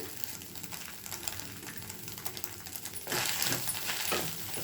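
Beaten egg fries in a pan for a scrambled egg dish, giving a steady close sizzle that grows suddenly louder and crackles more brightly partway through.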